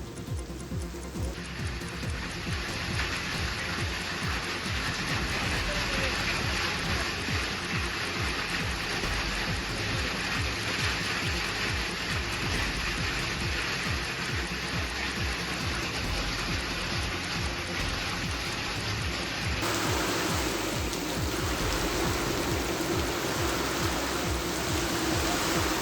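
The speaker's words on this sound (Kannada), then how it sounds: "ಚಿಕ್ಕಮಗಳೂರು ಜಿಲ್ಲೆಯಲ್ಲಿ ಕಳೆದ ಕೆಲವು ದಿನಗಳಿಂದ ಭಾರಿ ಮಳೆ ಆಗ್ತಾ ಇದೆ." Heavy rain driven by strong wind in the Mudigere hills of Chikkamagaluru district, Karnataka, a steady loud broadband roar with gusting texture that shifts tone near the end, and no voices.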